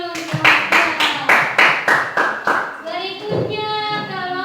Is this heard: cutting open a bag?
no